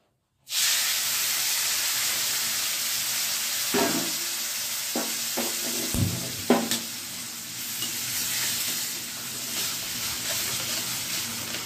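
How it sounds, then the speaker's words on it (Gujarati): Semolina is roasted brown with cashews and raisins for a Gujarati sweet, making a steady close frying hiss that starts abruptly, with several distinct scraping stirs through the middle and no voices. "જો સાવ બ્રાઉન કલરનો શેકો છે,"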